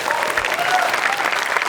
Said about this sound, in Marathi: एकदा जोरदार टाळ्या या बहारदार परफॉर्मन्ससाठी